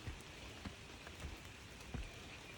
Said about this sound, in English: it's slippery and it's raining